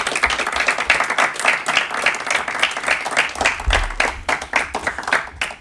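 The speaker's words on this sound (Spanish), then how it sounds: "Os voy a pedir un aplauso para ellas" Audience applause closing a live social-education podcast session: dense, steady clapping from a sizable crowd that holds for several seconds, loud and close, with no voices over it.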